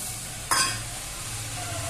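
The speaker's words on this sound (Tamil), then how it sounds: "இப்போ நம்ம அரைச்சி வச்ச தக்காளி ஜூஸை அதில் ஊற்றுறோம்." Tomato juice hits a hot pan with a sudden sharp sizzle that quickly settles into a softer, steady frying hiss.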